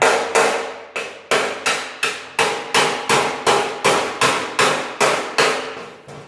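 A screwdriver is hammered into spot-welded metal to split the pieces, about thirteen sharp, loud, evenly spaced metallic blows ringing close up with no talk.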